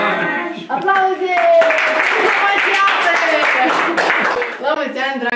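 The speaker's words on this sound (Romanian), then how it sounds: "Aplauze!" Hands clap steadily at a family birthday celebration while several voices talk and call out over the clapping.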